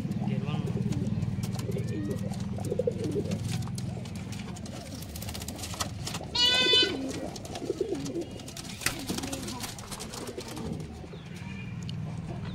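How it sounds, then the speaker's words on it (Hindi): Gerwe pigeons at a pigeon market coo in soft repeated bursts, joined by clip-clop hooves and a sharp bird call midway, with people talking in the background. "ये गेरवे कबूतर बोलते हैं दोस्तों इनको"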